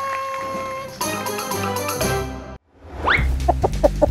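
Chickens cluck in short, repeated bursts among other busy background sounds, fairly close and moderately loud.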